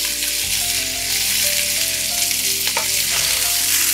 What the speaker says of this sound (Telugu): ఒక 2 ఎండుమిరపకాయలు, ఒక 6-7 వెల్లుల్లి రెబ్బలు వేసి ఫ్రై చేసుకుందాం.